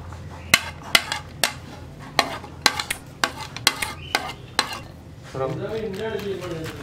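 Egg and vegetable omelette mixture with tomato, onion and curry leaves being mixed in a bowl, a run of about a dozen sharp, rhythmic clinks of a utensil against the bowl, followed by someone speaking.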